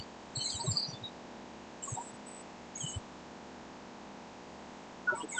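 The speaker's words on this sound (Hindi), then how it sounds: "एक बड़ा प्यारा पार्ट है इस गाने का जिसमें कि वो चिड़ियों को इस्तेमाल कर रहे हैं, नेचर साउंड्स" Small birds chirp as nature sounds within a Bollywood song: a few short, high tweets in sparse bursts, fairly faint over a soft, steady background.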